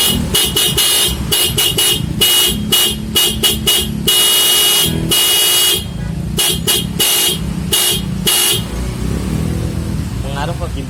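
A Honda PCX 160 motorcycle horn blares in repeated short and long honks, loud and close, in an irregular rhythm of bursts.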